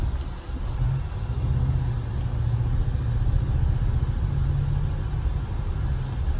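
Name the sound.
Toyota Tacoma TRD Pro 4th gen truck driving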